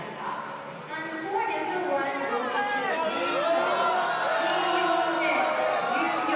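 Indoor badminton arena crowd at the China Masters 2016 men's doubles final, a steady roar of chatter and rising cheers with whoops as the players walk out, continuous and moderately loud throughout.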